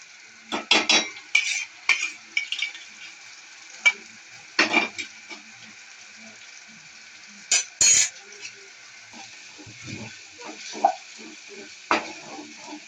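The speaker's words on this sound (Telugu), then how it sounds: "ఉల్లిగడ్డ, లవంగాలు, దాల్చిన చెక్క ప్లస్ పండ పువ్వు ఇవన్నీ గ్రైండ్ చేసింది వేసి మంచిగా ఫ్రై చేసుకోవాలి" A ground paste of onion, cloves, cinnamon and star anise fries in a pan with scattered loud clanks and scrapes of a spoon against metal, separated by quieter stretches of faint sizzling.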